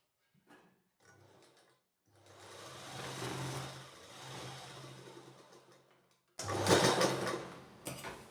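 Sewing machine stitching a printed blouse, a few short bursts followed by a longer steady run of stitching and a louder final burst, close and fairly quiet.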